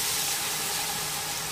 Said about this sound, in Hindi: अब हम इसमें हरी प्याज डाल देंगे। हरी प्याज को थोड़ा सा भूनने के बाद हम इसमें बाकी की चीजें डालेंगे।